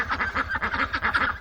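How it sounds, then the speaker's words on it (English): A duck quacks in a rapid, steady run of about eight loud, close calls with no other sound. "So you remember that it is a duck that makes this sound."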